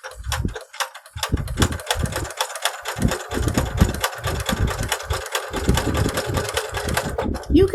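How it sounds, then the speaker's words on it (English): A sewing machine runs a small zigzag stitch along the pinked hem edge of a pair of pants in rapid start-stop bursts, its fast rhythmic mechanical clatter close and clear, pausing briefly between runs. "I'm just going to sew along this pinked edge here. And I'm going to use a small zigzag stitch"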